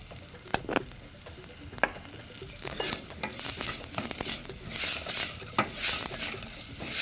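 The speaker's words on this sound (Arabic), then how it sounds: "يا دوبك بس تقليبه كده في السمنه" Chopped onion is stirred in hot ghee (samna) in a pot, with a steady soft sizzle and scattered scraping clicks from a spoon. No talk is heard.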